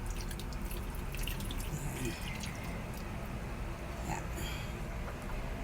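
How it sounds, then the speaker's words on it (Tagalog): Diluted coconut milk is poured in a soft, steady liquid trickle with a few faint drips, heard up close under a constant background hiss. "So ayan, yan na yung pagbuhos ko ng gata."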